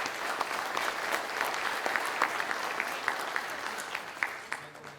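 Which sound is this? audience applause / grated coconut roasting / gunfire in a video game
audience applause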